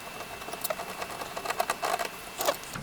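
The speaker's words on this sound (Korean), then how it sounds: "이렇게 원하는 부분에 위치를 해 놓게 되면 클램프를 그대로 쭉 조여 주면 됩니다" A metal clamp on a Morak single-arm desk armrest is tightened against the underside of a desk, giving a quick run of small, faint clicks and rattles with no voices.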